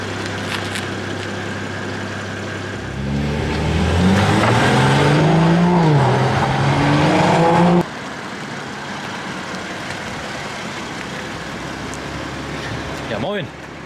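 A BMW M440i G26 with an HJS downpipe and sport air filter accelerates on a road test drive, its engine note climbing in pitch through a loud surge before abruptly dropping back to a steady cruising rumble.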